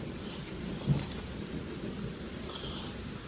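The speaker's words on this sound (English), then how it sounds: "Thunder." Low rumbling thunder rolls under steady outdoor rain, a continuous broadband hiss with a soft rumble swelling briefly near the start, fairly distant, with no one talking.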